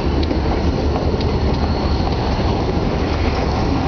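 Berkshire Hills train cars roll past with a loud, close rumble and faint periodic wheel clicks over the rails, a continuous heavy rolling sound.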